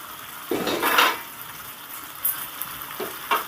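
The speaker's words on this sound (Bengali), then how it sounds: "দেখুন ঢাকা চাপাটা খুলে দিচ্ছি" A metal lid is lifted off a pot of eggplant and potato curry, giving a short clatter and scrape at the start, followed later by a few lighter clinks of cookware with no one speaking.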